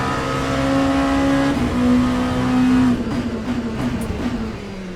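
An LMP2 prototype race car in the sim racing game Le Mans Ultimate at Bahrain, its engine droning loud and close at steady high revs, pitch shifting and easing off partway through, with no voices.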